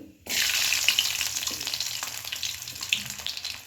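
Garlic and Byadagi chillies hit hot oil with a sudden sizzle that settles into a steady, close frying hiss, flecked with small pops and crackles, while a restaurant-style mutter paneer base is cooked.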